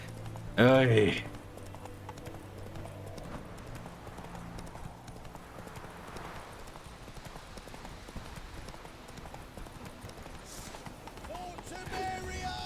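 Geralt's horse Roach galloping in the video game The Witcher 3, a continuous fast hoofbeat rhythm with a whinny near the start, under a man's brief remark.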